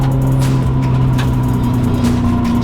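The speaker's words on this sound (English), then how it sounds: "Just gonna drive it around the building here" A right-hand drive car creeps along in second gear at low speed, its engine holding a steady close, loud hum with faint intermittent clicks and rattles and no talking.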